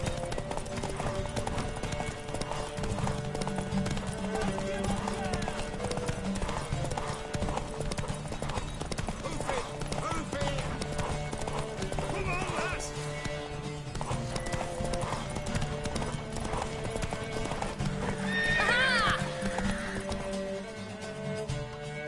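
A horse in The Witcher 3: Wild Hunt gallops with steady, rapid hoofbeats that run throughout, under constant game music, with a brief neigh rising near the end.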